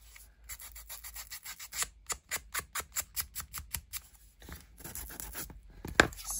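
Quick, rhythmic rasping strokes of sandpaper rubbed over a folded paper craft label, a steady run of short scratchy bursts up close with a brief pause partway through, with no talking.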